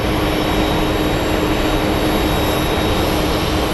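A Mesa Airlines regional jet flying for United at Phoenix Sky Harbor airport roars with a steady, loud broadband engine wash and whine, unbroken throughout.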